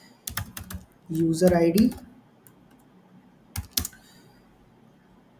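Quick bursts of clicking from a computer keyboard as SQL code is typed, close and crisp, broken up by someone speaking briefly between the keystrokes.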